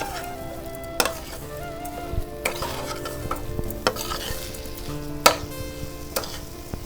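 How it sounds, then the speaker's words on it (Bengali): Grated coconut being stirred in a pan over low heat, with irregular scraping strokes of a spatula and a soft background sizzle, no talking. "এবার নারকলটা ছাই মেরে নিতে হবে একদম আঁচটাকে কম রেখে কিন্তু এটাকে পাক করতে হবে"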